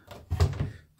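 A wooden two-door kitchen cabinet in a tiny house is pushed closed and latched, giving a brief close knock with a couple of soft thunks inside a second.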